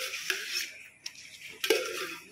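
Murtabak cooks at a street food stall in the late afternoon, with a metal utensil scraping and tapping on a hot griddle in a few sharp clinks over a faint sizzle, close and fairly quiet.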